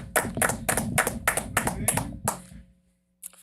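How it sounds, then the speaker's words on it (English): A small group claps together in a short round of applause on a casual podcast, with voices talking and laughing underneath, then the clapping stops and a brief pause follows. "Round of applause for that."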